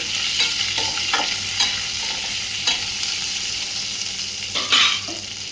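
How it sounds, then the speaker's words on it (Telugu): Curry leaves, onion and green chillies fry in hot oil for a masala curry, a steady close sizzle broken by several scraping stirs, with no talking. "కరివేపాకు ఆనియన్ పచ్చిమిర్చి ఫ్రై చేసుకోవాలండి"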